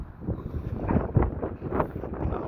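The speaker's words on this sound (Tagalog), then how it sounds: "it's windy" Blustery outdoor wind buffeting the microphone, a low rumbling roar that surges and dips in gusts throughout, close and fairly loud with no other distinct sounds.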